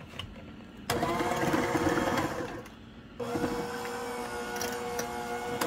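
An electric hand mixer whirs through pumpkin butter cake batter in a home kitchen, running steadily for about two seconds, easing off briefly, then starting again and holding a loud, even motor whine to the end.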